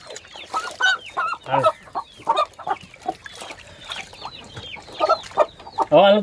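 Chickens and a rooster on a backyard poultry setup cluck repeatedly in close, busy bursts, with a louder squawk near the end and no talking.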